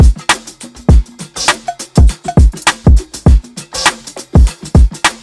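Hip-hop beat playing with an added hi-hat sample layered over punchy kicks and snares, a steady looping groove with crisp bright ticks throughout, loud and close with no talking.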